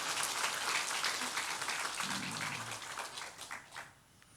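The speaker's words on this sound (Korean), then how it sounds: "어린이부를 위해서 박수 한번 쳐주시기 바랍니다" Applause from a church congregation during a Sunday service, a dense patter of many hands that holds steady, then thins and fades out toward the end; moderately quiet and heard from across the room.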